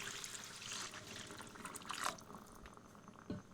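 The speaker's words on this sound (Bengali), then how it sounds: "জল দিয়ে এটিকে সেদ্ধ করে নিচ্ছি" Water is poured into a pot of chicken for biryani, making a faint, steady, close splashing hiss that fades out, followed by a soft clunk.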